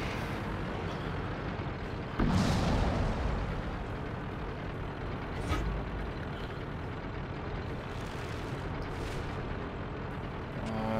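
Artillery fire in the World of Tanks tank battle game, a loud booming blast near the start with a smaller impact later, over steady engine and battle rumble.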